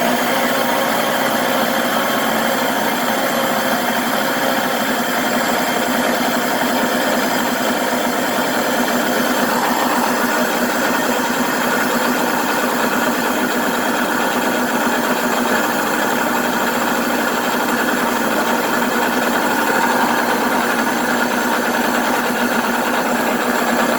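A Deluxe Cooking Blender runs on level 3, grinding whole wheat grain into flour: a steady, dense motor whir with gritty rattling, loud and unbroken throughout with no voices.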